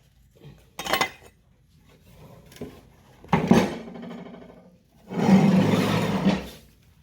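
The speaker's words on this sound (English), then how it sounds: "Slide that spindle right out." A Craftsman lawn tractor deck spindle slides out of its housing with scraping, clanking metal, heard as a few short, close bursts separated by quiet pauses.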